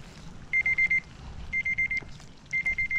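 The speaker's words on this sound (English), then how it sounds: "Oh, there goes my alarm." A digital alarm sounds outdoors beside water during spring fishing, giving three bursts of rapid, evenly spaced high beeps, with each group of about five pulses separated by a short gap over faint background noise.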